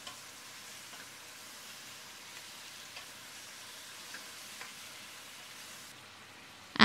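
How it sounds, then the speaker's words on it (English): A venison shank curry pot being stirred after chopped tomatoes go in, giving a steady low sizzle with a few faint scraping clicks, heard alone and without talk. "Add the chopped tomatoes in and stir the pot."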